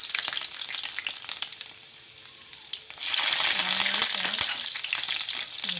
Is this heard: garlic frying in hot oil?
yes